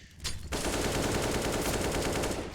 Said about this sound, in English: Wild shots fired off towards the connected position there.